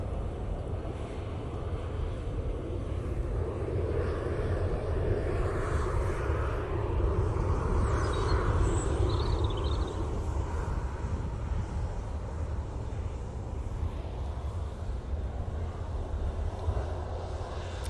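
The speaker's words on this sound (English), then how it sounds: "TUI is lined up and ready to go off to Montego Bay." TUI airliner taking off for Montego Bay at Manchester Airport, a distant, fairly faint jet engine roar swelling and fading over steady wind noise.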